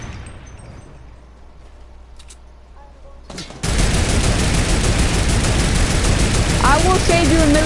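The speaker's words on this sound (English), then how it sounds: "This is how you use a turret." Turret fire in the Fortnite video game, starting abruptly partway through and continuing as dense, loud sustained shooting with voices shouting over it.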